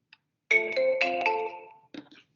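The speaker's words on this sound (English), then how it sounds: "That's going to ring on my phone here." A phone rings with a melodic electronic ringtone, set off by an outgoing call placed through Aircall integrated with Dynamics 365. Two clear ringing phrases play alone in a quiet room, the second one cut short.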